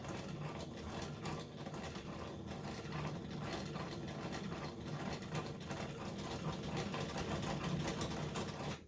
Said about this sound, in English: I'm going to sew right on the edge.